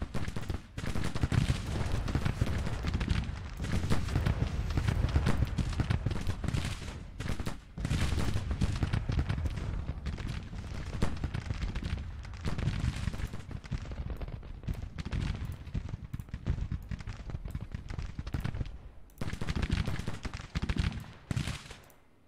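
Dense, continuous musket volleys and rattling gunfire from Civil War infantry units in the strategy game Grand Tactician at Vicksburg, crackling steadily with brief lulls, fairly distant and without talk.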